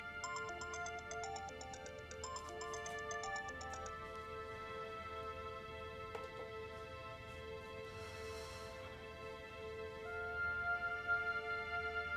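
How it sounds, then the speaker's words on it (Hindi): A phone ringing with an incoming call, a faint electronic melodic ringtone repeating in short patterns for several seconds over a quiet indoor background, then a sustained tonal hum continuing afterward. "अम्मी की कॉल आ रही है। क्या फोन नहीं उठाओगी?"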